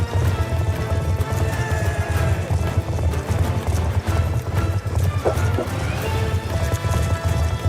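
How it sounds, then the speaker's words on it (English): Horses gallop in a fast, continuous clip-clop while neighing and whinnying break through, all set against music and battle noise in a video-game cavalry charge against Soviet troops and tanks. "Riding horses to attack a bunch of Russians and tanks."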